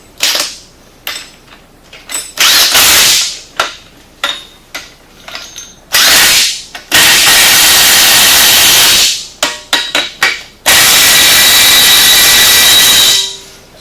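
An impact wrench tightens bracket nuts while a KFI Tigertail is installed on a 2013 Polaris RZR S. It sounds in loud, repeated rattling bursts, short taps and then longer hammering runs, separated by brief pauses.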